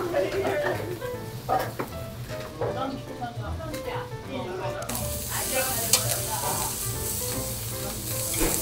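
Beef skirt steak (harami) sizzling on a yakiniku grill at a downtown barbecue restaurant, a steady crackling hiss that flares louder partway through, with people talking over it.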